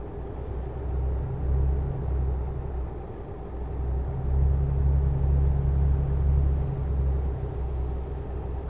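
A heavy truck rolls downhill in Euro Truck Simulator 2, its low engine rumble steady and droning with a faint high whine above, no talking.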